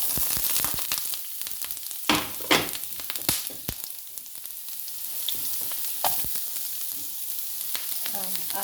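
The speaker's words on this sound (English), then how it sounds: "I'm just pushing them there to fry nicely, and I don't want them to burn." Gnocchi frying in a pan crackle and sizzle close up, with bursts of spatula clatter and scraping as they are pushed around, then settling into a steady hiss.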